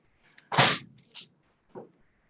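One sharp, close sneeze bursts out, with faint breathy sounds just before and after it.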